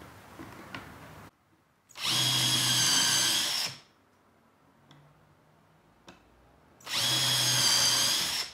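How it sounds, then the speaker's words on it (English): A power drill drives screws into the wooden frame of a laundry basket stand in two loud, steady bursts of about two seconds each, separated by quiet workshop pauses with faint knocks. "You're trying to drive a screw in, the wood can rise up."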